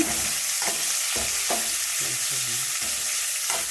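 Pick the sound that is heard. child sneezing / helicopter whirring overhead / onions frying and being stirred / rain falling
onions frying and being stirred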